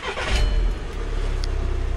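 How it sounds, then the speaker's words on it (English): A VW T5 Transporter van gives a low engine rumble that swells briefly near the start and then settles into a steady, close idle-like drone. "So what I'm going to do now is turn my ignition on."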